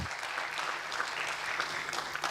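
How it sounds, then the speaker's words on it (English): A crowd applauds with dense, steady clapping that holds evenly for a couple of seconds, with no voices over it. "Let's clap for progress."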